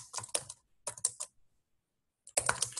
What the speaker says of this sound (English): Let me type after that.